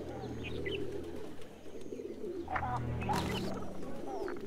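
Low, rolling coos pour from a flock of pigeons that includes black birds, a constant murmuring layer. A few brighter bird chirps rise briefly near the middle.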